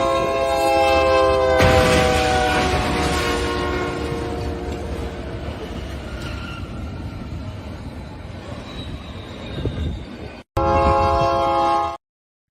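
A train rolls past close by, its loud horn blaring in long sustained chords that start abruptly and hold over the steady rumble of the cars, then cut briefly and return.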